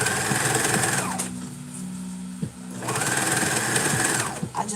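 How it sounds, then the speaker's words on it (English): A sewing machine runs zigzag stitches along gathered fabric for a McCall's 8193 cosplay garment, loud and close, in two steady bursts separated by a short pause. "If you don't have a serger, you can zigzag stitch."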